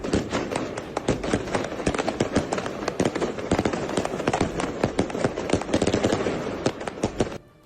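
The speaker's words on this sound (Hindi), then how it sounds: "वहां कुछ लोगों ने पटाखे जलाकर खुशी मनाई।" Firecrackers go off in a street celebration in Lebanon, a dense and continuous crackle of sharp loud pops that barely pauses, heard close and alone for several seconds before it stops abruptly.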